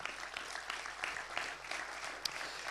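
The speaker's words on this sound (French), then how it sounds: "sous les applaudissements nourris de l'espace Le Lorrain" An audience at a regional biodiversity trophy ceremony at the Espace Le Lorrain gives dense, sustained applause that stays steady throughout and sounds somewhat distant and soft.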